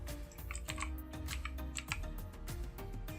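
Rapid keystrokes on a computer keyboard, a quick irregular run of close, light clicks with no talking.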